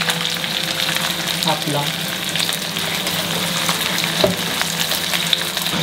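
Garlic and onion frying in a hot pan for a sweet and sour sauce, with a loud, continuous close-up sizzle and some stirring, and a short spoken phrase over it.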